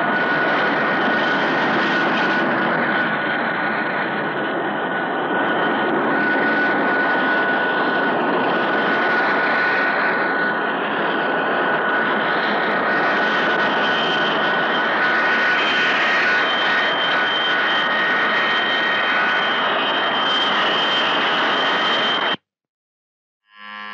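An airliner's engines drone steadily in flight, a loud, even roar with a faint high whine that holds unbroken for about twenty seconds before cutting off abruptly.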